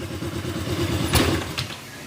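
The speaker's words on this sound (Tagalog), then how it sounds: "kung ano yun yung tunog ng kalampag" A small scooter engine with a faulty pulley idles with a steady low rattling knock, close by, with a brief louder clatter midway.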